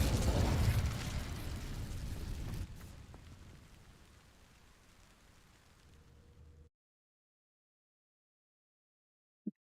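Incendio fire spell from Hogwarts Legacy igniting dry vines, a loud roaring burst at the start that fades into a lingering crackling rush over several seconds before cutting to silence, with one short click near the end.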